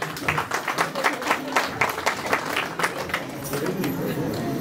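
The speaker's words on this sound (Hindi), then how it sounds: "क्या बात है, तालियों के साथ।" Guests clap at an engagement ceremony, a dense patter of hands blending with crowd murmur and voices throughout.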